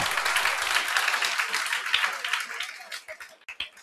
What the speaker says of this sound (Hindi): ताली बजाओ देंगे